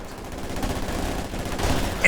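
Incendiary artillery barrage in Company of Heroes 2 strikes as a dense, loud rumble of overlapping blasts and crackling fire, sustained without pause.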